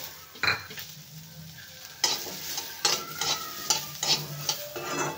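Onions roasting in a pan, heard as a soft sizzle with a spoon stirring and scraping against it in repeated strokes, close and fairly quiet, with no talking.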